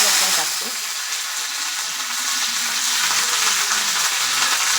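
Curry leaves sizzling in hot oil with mustard seeds in a kadhai on a gas stove, a loud, continuous crackling hiss close up, with occasional faint talk underneath.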